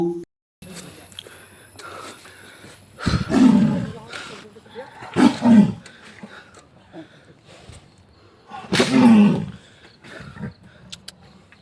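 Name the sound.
man-eating tiger trapped in forest department cage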